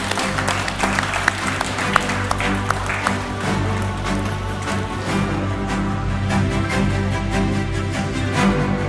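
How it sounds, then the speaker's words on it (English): Audience applause at the FDB National SME Awards 2025 ceremony as winners are called on stage, steady clapping with music-like tonal layers underneath, loud and continuous for the full stretch. "Round of applause, ladies and gentlemen."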